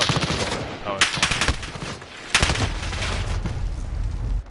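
Rapid automatic rifle fire with a foregrip in a video game, loud close bursts of gunshots with short pauses between volleys, a voice talking over the shooting.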